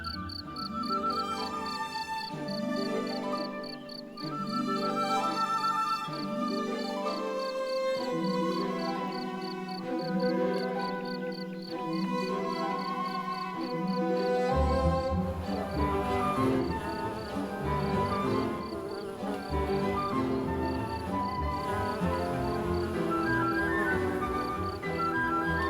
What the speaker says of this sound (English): Here, field crickets sing loudly to prove their value.